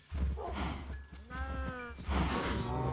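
Cows in the video game Minecraft, fed wheat to make them breed: several bleating, lowing animal calls rise and fall one after another over a steady low hum, with no talk.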